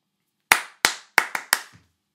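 Five sharp hand claps ring out alone in a quiet room during a music game built on graphic scores: two spaced claps, then a quicker burst of three, each close and crisp with a short ringing decay.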